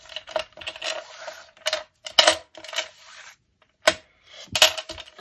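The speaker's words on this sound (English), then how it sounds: "So this is a pile of old keys I've been" A pile of old metal keys, aged but not rusty, is handled close up, giving bursts of bright jangling clinks separated by short pauses.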